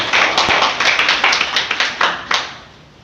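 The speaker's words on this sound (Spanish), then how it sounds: "Denle un aplauso al Señor para que no se duerma" A church congregation claps in a quick, even rhythm, the sharp hand claps close and clear for a few seconds before they fade out.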